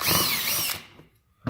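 A power drill boring a pocket screw hole in wood, a close whirring grind for under a second that winds down, then a brief knock.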